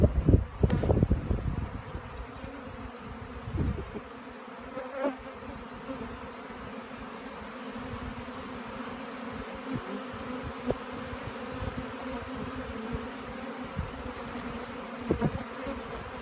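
Honey bees buzz around an open garden hive as its lid area is cleared of old honeycomb, a continuous close droning hum with individual bees swelling past, plus a few handling knocks early on.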